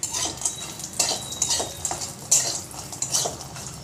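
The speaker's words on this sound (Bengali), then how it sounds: "তেল গরম হয়ে গিয়েছে, বড়িগুলো দিয়েছি" Lentil dumplings (bori) frying in hot oil in a pan, with a quiet sizzle under repeated sharp clinks and scrapes of a metal spatula against the pan, close by, with no talking.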